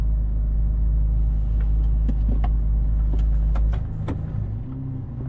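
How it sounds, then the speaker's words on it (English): Ferrari 296 GTB hybrid V6 supercar, a loud deep engine rumble heard from inside the cabin at a steady idle, with small clicks and knocks over it, settling to a lower hum near the end. "you're going to hear that engine. A lot of people call this the mini V12 because of the way it's built"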